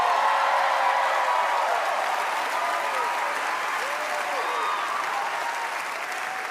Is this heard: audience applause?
yes